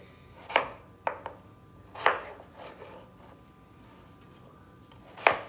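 A knife rough-chops vegetables on a cutting board in a home kitchen, four or five sharp, separate thwacks at an uneven pace with quiet pauses between them.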